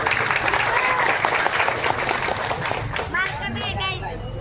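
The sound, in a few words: audience applause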